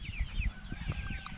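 Young Cornish hen chicks, a few weeks old, making soft clucks and peeping calls, several quick faint notes over a low background rumble.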